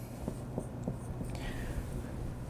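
Marker or chalk scratching out a math expression on a classroom board, a few short quiet strokes in quick succession, close and soft with no talking.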